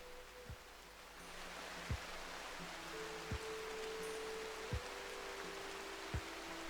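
Steady rain in RimWorld hisses evenly throughout, a constant soft wash, with faint evenly spaced low thumps and quiet music tones beneath it.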